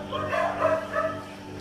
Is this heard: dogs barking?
yes